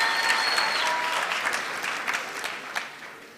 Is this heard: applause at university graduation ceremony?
yes